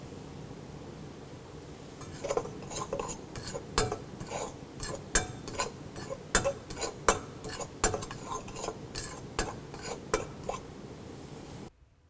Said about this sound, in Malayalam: ഈ മൈദമാവിലോട്ട് ആവശ്യത്തിന് ഉപ്പ് ആഡ് ചെയ്ത് നന്നായിട്ട് മിക്സ് ചെയ്യുക